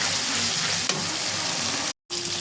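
Onions and capsicum sizzle and crackle steadily in a hot pan for garlic chilli chicken while being stirred, with a sharp clack of the utensil partway through and a brief cut in the sound near the end.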